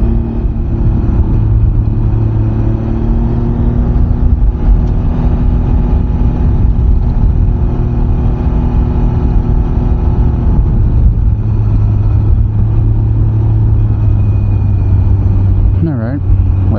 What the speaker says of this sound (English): See how the wind noise is.